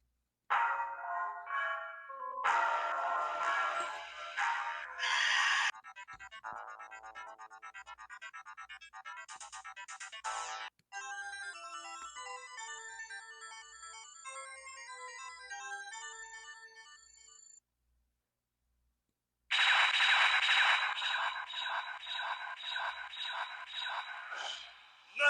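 Metal Slug game audio plays from the small built-in speaker of a Neo Geo and Data East Super Pocket handheld: bright chiptune music and sound effects in loud bursts, a stretch of quieter melodic tones, a brief silence, then another loud burst.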